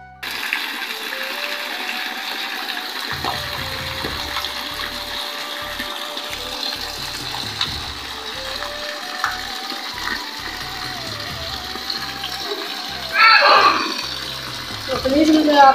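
Floodwater runs steadily through a house, a continuous rushing, pump-like flow with a constant mechanical hum, while a person talks over it and a brief louder gush comes near the end.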